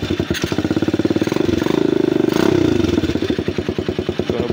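A cafe racer motorcycle engine, just kickstarted, chugs and idles with a rapid, uneven thumping beat, briefly revving higher before settling back into a rough idle.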